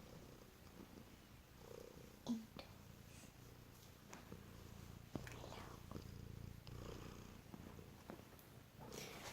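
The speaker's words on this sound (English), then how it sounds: "I've got my kitty cat." A house cat, a female kneading on a bed, purrs softly and continuously up close, a low rumbling drone broken by a few faint rustles and small soft snorts.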